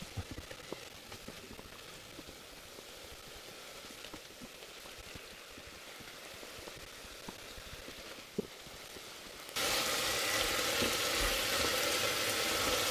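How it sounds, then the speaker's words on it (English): Onions sizzle and crackle steadily in a pan as they are stirred for peanut soup, a close, even frying hiss that swells louder and brighter for the last few seconds. "we just stir this until they turn a nice golden brown"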